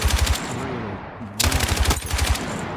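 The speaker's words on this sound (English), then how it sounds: "I'm just going to shoot at this target." Rapid automatic gunfire from a first-person shooter video game, with two loud bursts of fast repeated shots separated by a pause, close and dominant, and low electronic game sounds underneath.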